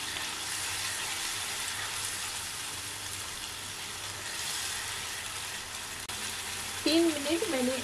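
Ginger garlic paste sizzling in a hot pan for egg curry, a steady broadband hiss held throughout, close and even, with a brief clatter near the end and a voice speaking over it.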